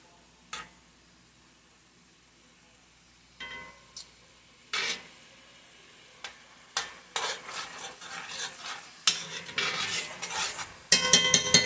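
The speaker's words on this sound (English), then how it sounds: "So the butter in there, and let it melt down." Butter melting in a skillet for a chicken and tomato bake gives a soft, building sizzle, broken by scattered clinks and stirring scrapes of a utensil against the pan, growing busier and louder toward the end with no talking.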